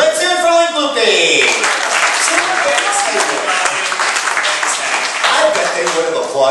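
An audience at a Walt Disney World show breaks into full applause, loud and continuous with scattered cheers, while a voice talks over the start.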